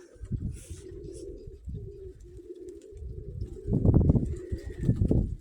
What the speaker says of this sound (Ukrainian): Летить голубка.